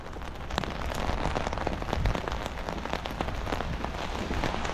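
Rain falls steadily during an outdoor walk, a close, dense patter of drops striking surfaces that carries on evenly throughout.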